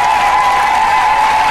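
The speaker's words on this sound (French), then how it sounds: "Applaudissons." Congregation applauding in a church, a loud continuous wash of clapping with a steady ringing tone sustained over it throughout.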